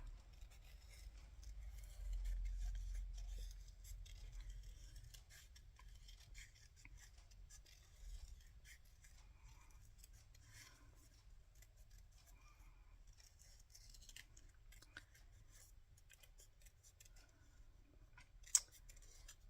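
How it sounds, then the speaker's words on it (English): Scissors snip through paper scraps at a craft table while clusters are being made, a faint, quiet run of small cutting sounds with no talk. "Let's cut this out quickly if I can."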